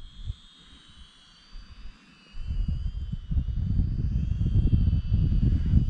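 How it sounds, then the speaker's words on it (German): An Aldi Maginon QC-50S quadcopter drone flies outdoors in cold weather, giving a thin, steady high rotor whine over low wind rumble that grows louder partway through. "Jetzt habe ich schon Probleme hier, die Drohne her zu mir zu fliegen."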